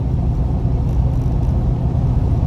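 Porsche 928 with a small-block V8 and newly tuned carburetor and timing idling, a steady, close, low rumble with no clear pulses and no talk.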